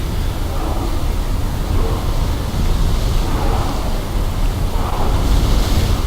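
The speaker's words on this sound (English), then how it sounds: "Nice waves." Loud, continuous sea waves and surf in the video game Assassin's Creed Odyssey, a broad rushing wash with slow swells and wind noise, no voices.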